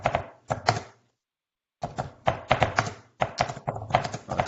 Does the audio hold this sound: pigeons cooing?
no